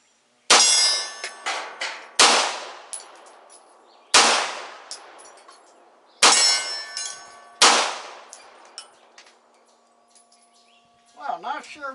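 A Beretta 92FS pistol fires five loud, sharp shots at a 20-yard target at an outdoor range, spaced about two seconds apart, each with a ringing metallic tail, followed by a brief electronic warble at the end.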